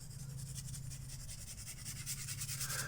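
A pencil lightly shading across the eye socket of a drawing on paper, a soft, continuous scratchy rubbing heard close and quiet with no talk.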